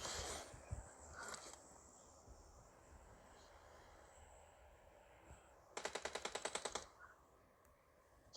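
Automatic gunfire in a shooting video game rattles in one rapid burst of about a dozen sharp shots, loud against a quiet hum, with a few scattered single bangs earlier.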